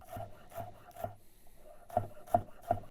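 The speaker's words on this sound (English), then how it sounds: "So I've got green onion, garlic, and ginger. These are all getting the same treatment. Chop them really fine" A knife finely chops green onion, garlic and ginger on a cutting board, six crisp close strikes in an uneven rhythm, with the last three sharper and louder.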